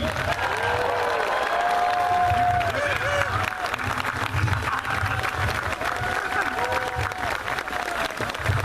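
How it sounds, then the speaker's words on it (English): Crowd applause with scattered cheering at the Atlanta Streetcar opening ceremony, steady and dense throughout with a low rumble and some voices mixed in. "give a big round of applause"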